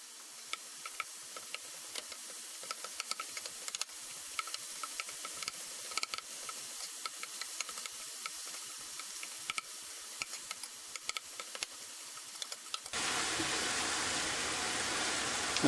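Pork and shrimp filling cooks in a pan with a steady, soft sizzle and frequent small crackles and pops. The sizzle abruptly turns brighter and hissier near the end.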